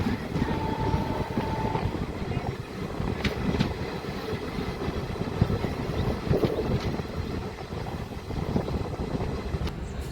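A DEMU local train halted at Saipet railway station rumbles steadily throughout, with faint clanks and no talking, as another train approaches on the line.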